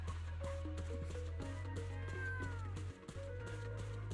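Cats meow in the video game Zenless Zone Zero. Several drawn-out, wavering meows come close together over a steady low background hum.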